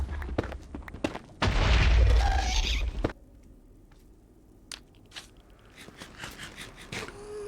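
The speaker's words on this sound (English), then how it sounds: "the ghast is shooting at me" Minecraft ghast fireball attack in the Nether: a loud, roaring burst of blast and crackle lasting over a second, followed by scattered sharp clicks and thuds from game play.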